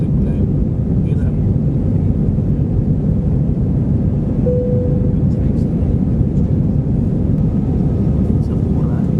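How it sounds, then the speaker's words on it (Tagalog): An Airbus A320 roars on its takeoff and climb, a loud steady broadband rumble of engines that fills the whole stretch without pause. "clear for takeoff. Positive climb."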